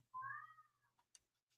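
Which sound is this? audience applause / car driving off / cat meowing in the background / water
cat meowing in the background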